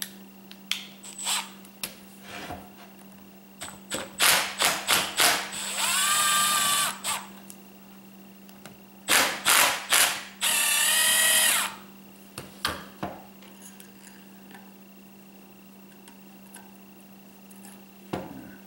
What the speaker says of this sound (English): And I've got my impact driver here. Pull these screws out.